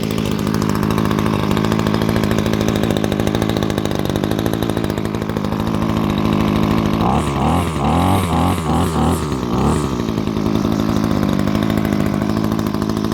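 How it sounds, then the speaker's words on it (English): A gas string trimmer engine running steadily close by, a loud continuous buzzing drone that holds an even idle with a short stretch of uneven, fluttering revs in the middle, with no talk. "So I finally got it started, running smooth"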